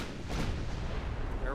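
Heavy naval gunfire from warships in Ultimate Admiral Dreadnought, a dense rumbling boom that rolls on steadily with a brief sharper crack partway through.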